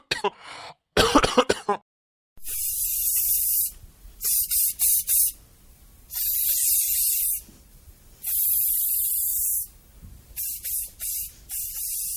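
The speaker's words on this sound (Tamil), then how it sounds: "உள்ள ஒரு ஸ்ப்ரே பாட்டில் இருக்கும், அதை எடுத்து டக்குனி கையில கொடு" A handheld spray bottle releases a series of loud, hissing bursts, some short and some lasting about a second, separated by brief pauses.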